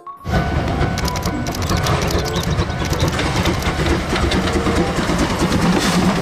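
Thomas train toy or train running with a continuous dense rattling clatter and rhythmic clicking, loud and steady throughout.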